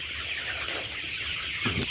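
A flock of about nineteen hundred colour-breed broiler chickens on a poultry farm clucks steadily, with a continuous mass of chatter and a few louder calls near the end.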